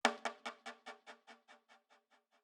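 One-shot sample sent through a homemade Valhalla Supermassive delay preset: a single bright hit followed by about a dozen evenly spaced echoes that steadily fade into silence.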